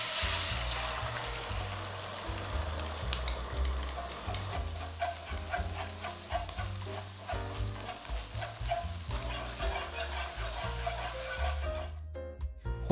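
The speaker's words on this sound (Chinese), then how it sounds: "打成蛋液，把鸡蛋煎熟" Beaten eggs sizzle and fry steadily in an oiled pan, with stirring and scraping noises throughout before the sound cuts off near the end.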